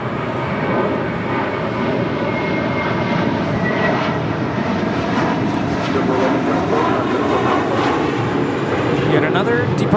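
A JetBlue Airbus A321 jet departs LAX bound for JFK, its engines producing a steady, loud broadband roar that holds evenly throughout.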